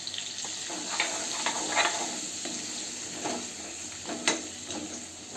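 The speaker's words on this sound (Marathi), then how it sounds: "तेल तापले. त्यामध्ये आपण वांगी टाकून घेऊ आणि वांगी परतून घेऊया आपण." Eggplant pieces fry in hot oil with spices, giving a bright continuous sizzle broken by several spoon-scraping stirs in the pan, close up with no voices.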